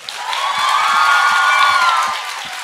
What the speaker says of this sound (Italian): qui io vorrei un applauso